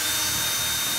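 A power drill runs steadily and close, boring holes into a bathroom wall to mount hardware, with a continuous whining hum and no pauses.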